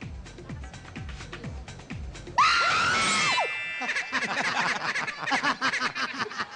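A woman lets out a loud, high scream that rises and falls for about a second amid a noisy studio variety-show crowd with chatter and shouting around it.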